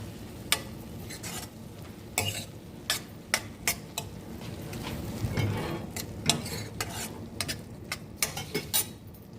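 Okra palya with chili powder is stirred in a pan, with a series of sharp spatula clinks and scrapes against the metal over a faint sizzle and no talk.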